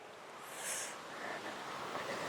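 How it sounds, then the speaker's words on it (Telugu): Jhari waterfall in Chikmagalur roars out of sight as a steady broadband rush of falling water, heard faintly through a low wash of air while walking along a narrow trail toward it. "సౌండ్ వినిపిస్తుందా? Water sound."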